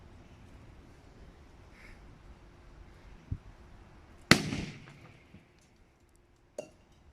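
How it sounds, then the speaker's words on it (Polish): A single sharp FP3 firecracker bang cracks out over quiet outdoor ambience, trailing into a brief crackling decay, with a faint pop a couple of seconds later. "Teraz zrobimy test mocy tej petardy."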